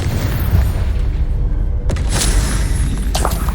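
A loud, continuous boom from a Confringo blasting spell in the Hogwarts Legacy video game, with a sharp burst near the middle that rumbles on and a second blast toward the end.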